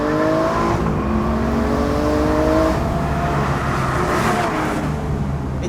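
An Aston Martin V12 Vantage S convertible's V12 engine rises and falls in pitch as it revs through downshifts, loud and close, a sustained throaty drone with shifting tones and no talking.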